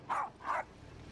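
A dog gives two quick, clear barks close by, evenly spaced within about half a second, with no talking over them.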